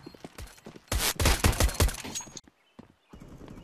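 Rapid bursts of gunfire in a Counter-Strike match on FACEIT, loud and close, clustering in a dense volley over about a second and a half before breaking off, followed by a few scattered softer clicks and thuds.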